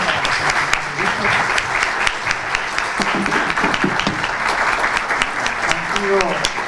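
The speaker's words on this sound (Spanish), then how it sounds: "Un fuerte aplauso para los" An audience at an anti-corruption panel discussion claps steadily throughout, dense and loud applause with faint voices underneath.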